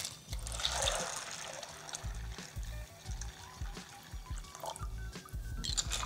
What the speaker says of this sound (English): Add in enough water to cover it.